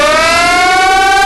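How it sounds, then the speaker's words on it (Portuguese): A loud civil defense siren wails steadily in a nuclear war video game, a single sustained rising tone with layered harmonics filling the whole moment, no voices. "Que trem doido de sirene é esse, jogador?"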